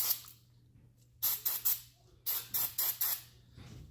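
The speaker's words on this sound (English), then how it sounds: "grab some contact cleaner. Just spray it off quick." Short bursts of contact cleaner sprayed onto a KTM SX-F air filter part: seven quick hissing spurts in two clusters of three and four, close and fairly loud with quiet gaps between them.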